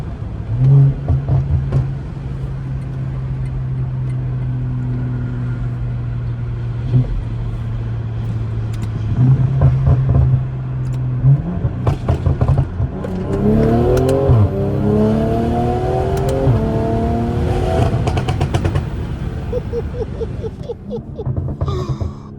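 A tuned BMW M340i with an aftermarket downpipe, around 500 hp, accelerates hard through traffic, its engine droning steadily then rising through loud revving pulls and gear changes, close and dominant with wind noise.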